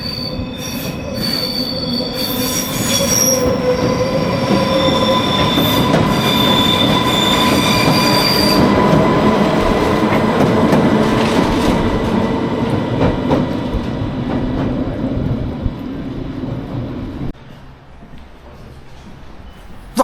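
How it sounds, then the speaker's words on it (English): An Isle of Wight Island Line train pulls away from a station toward Shanklin with loud, high-pitched wheel squeals and rumbling rail noise, fading as it departs, then the scene quiets. "Timed perfectly is the departure of an Island Line train, beginning its journey down to Shanklin"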